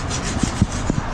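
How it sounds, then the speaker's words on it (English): A metal file sharpening the blade of a Black Max lawn mower powered by a Honda GCV 160 engine, giving short, loud, close scraping strokes with a few sharp scrapes. "we're doing a file so we can sharpen it"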